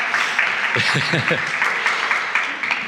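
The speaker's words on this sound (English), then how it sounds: "How about some applause?" Brief burst of clapping from a luncheon audience at a policy conference, a busy patter of many hands over a few seconds, with a voice speaking over it.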